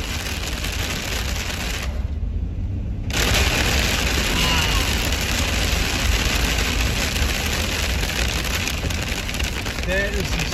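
Heavy rain and hail pound steadily on a van's roof and body while it drives, a dense, loud broadband roar that briefly drops away for about a second before returning at full strength.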